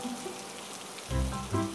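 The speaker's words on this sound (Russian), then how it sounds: "Дождь." Rain patters with a soft, steady hiss that swells into a heavier burst partway through.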